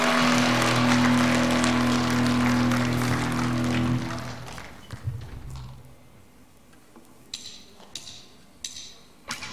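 Audience applause at a charity concert supporting disabled children, greeting a young girl performer: dense, loud clapping for about four seconds, then fading into scattered claps and quieter room noise.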